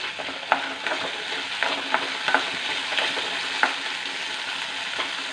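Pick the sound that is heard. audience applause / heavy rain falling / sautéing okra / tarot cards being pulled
sautéing okra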